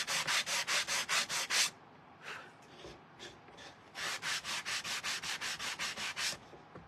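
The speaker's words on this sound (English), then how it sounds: "We just kind of sanded that edge there." Sandpaper is rubbed back and forth along a wooden edge in quick, even strokes, close and alone, with a brief pause of lighter scraping between two rhythmic bursts.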